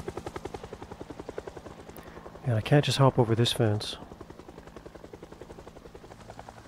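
In the video game Project Zomboid, a helicopter flies overhead with a steady rhythmic rotor chop that swells louder for a moment in the middle, while someone talks over it.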